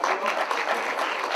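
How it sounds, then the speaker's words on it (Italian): A short burst of close, lively applause from a party crowd at an orchestra's birthday celebration, dense clapping with faint voices mixed in. "Un applauso."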